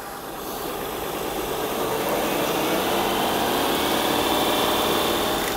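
A Honda Pilot engine idles with a smooth, steady hum and a faint whir, close and even throughout, fading in slightly at the start with no talk.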